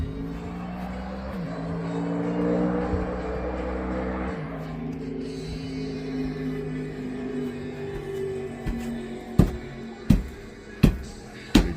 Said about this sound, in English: That kid's addicted to that noise because it totally sounds like a race car.